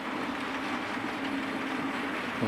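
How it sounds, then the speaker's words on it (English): A class 5 empty coaching stock train from Glasgow bound for Derby passes Dent station, heard as a steady, fairly quiet rumble and hiss that holds even throughout. "This is a class 5 empty coach and stock train."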